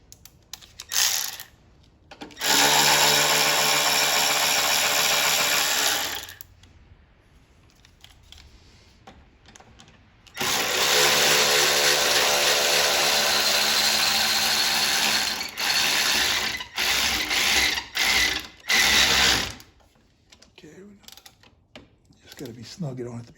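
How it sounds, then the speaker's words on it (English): An impact driver tightens nuts on a Nissan Altima battery, whirring and rattling in two long bursts, then a few short pulses, loud and close, with brief pauses between. "And now I'll use my power tools because it's a lot easier."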